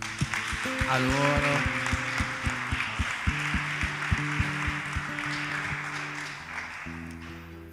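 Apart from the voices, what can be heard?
audience applause in church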